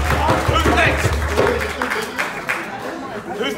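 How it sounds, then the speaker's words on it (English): An audience at a mental health performance event claps in a loose round of applause, mixed with chatter and voices talking over it. "Give me a round of applause."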